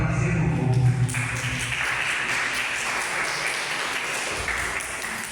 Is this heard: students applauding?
yes